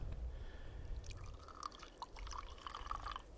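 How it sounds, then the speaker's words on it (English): Coffee is poured outdoors as a faint, thin trickle of liquid into a cup, with soft splashing and dripping under quiet background noise. "Coffee smells good, so just gonna give it a pour."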